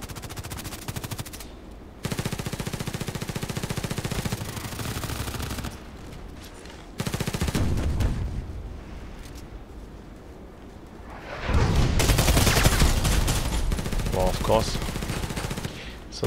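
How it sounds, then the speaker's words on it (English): Rapid bursts of automatic gunfire in the shooter game Contract Wars, loud and dense, coming in several long volleys separated by brief pauses, with some speech-like sound mixed in. "How comes that I'm shooting 6-7 times at him with a 50 plus damage weapon?"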